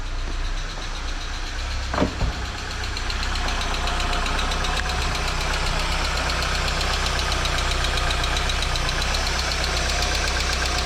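A Volkswagen MK2 Jetta engine idles steadily up close, with a light rhythmic ticking over the low rumble and a brief knock near the start.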